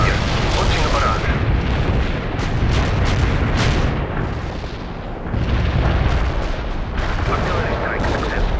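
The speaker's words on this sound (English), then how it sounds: "Artillery launching a barrage." Artillery barrage in the video game World in Conflict: dense, continuous rumbling booms and cracking blasts fill the clip at high volume, with a brief dip midway before the bombardment resumes.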